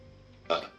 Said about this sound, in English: Thought I had a burp.